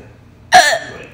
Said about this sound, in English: This is brutal hiccups.